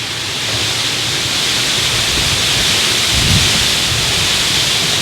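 Heavy rain and wind from a tornado storm roar as one loud, unbroken wash of noise with a low rumble swelling near the middle, and no voices.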